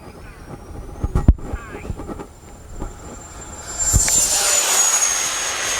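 SU-30 twin 70mm EDF radio-controlled jet flying in strong wind, a rising whine of ducted fans passing overhead and swelling into a loud rushing roar, with gusting wind noise and thumps throughout.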